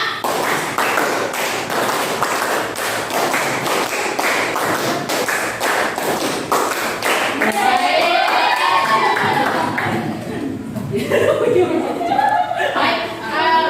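A group of students and a teacher play a counting clap game in a classroom, crisp rhythmic claps in quick regular bursts with chanting voices, followed by laughter and chatter from the crowd.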